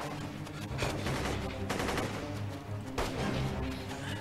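Soldiers' rifles and machine guns fire in dense rapid bursts during a battle scene in a war film about the anti-Japanese resistance, loud and continuous with overlapping shots.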